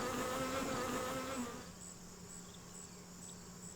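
Honey bees buzzing around a hive: a dense, steady droning hum of many insects close by, louder at first then settling to a softer, continuous buzz, with no talk.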